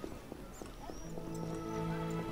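A dog yelps and whimpers outside a window, faint and distant, with short cries over a steady background hum.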